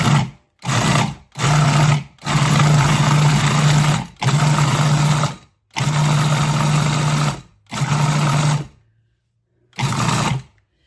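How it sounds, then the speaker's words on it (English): Food processor pulsing cheese dip ingredients, eight loud whirring bursts of a second or so each separated by short silences, the motor starting and stopping abruptly, close and alone. "We're just gonna pop the food processor on and pulse it a little bit and get this going."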